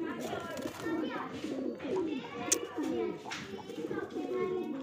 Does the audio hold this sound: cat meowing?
no